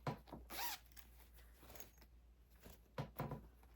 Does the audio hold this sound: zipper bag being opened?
yes